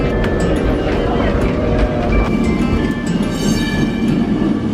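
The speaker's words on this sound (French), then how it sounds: "On est sur le fameux 28, le tram jaune qui va en principe monter vers le château" Lisbon's yellow number 28 tram heard from on board as it climbs toward the castle, a loud steady rumble with clattering of wheels and car body, while people talk over it.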